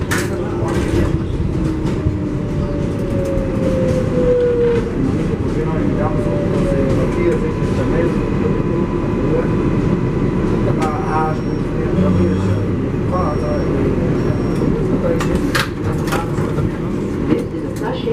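MTA 7 local subway train heading to Flushing Main Street, a loud, constant underground roar of wheels and car rattle with a falling squeal early on and occasional clanks, while an announcement voice speaks over it.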